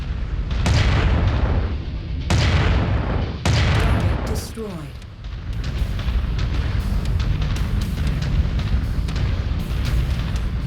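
Mech weapons fire at long range in MechWarrior 5: Mercenaries, with three heavy, loud booms spaced a second or more apart, followed by a steady rumbling, crackling barrage of distant impacts.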